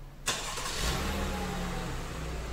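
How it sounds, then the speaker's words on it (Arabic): A 2019 GMC Acadia starts by remote start: a sudden starter crank and catch followed by the engine settling into a steady mid-pitched idle, heard outside at moderate distance with no talking. "خلينا نشوف التشغيل عن بعد"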